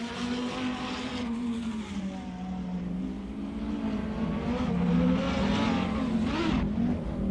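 Race car exiting the pits in a racing video game, a steady droning engine tone that gradually climbs in pitch, with other cars whooshing by over a continuous loud roar.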